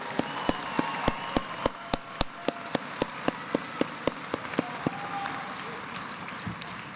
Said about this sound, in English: please join me in giving them another round of applause